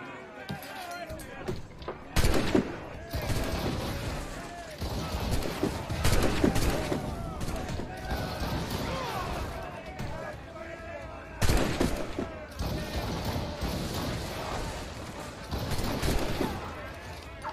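Gunfire and impacts from a buckle gun during a ship boarding in the video game Assassin's Creed Rogue, with loud repeated bursts and slams over a busy battle mix, plus shouting voices.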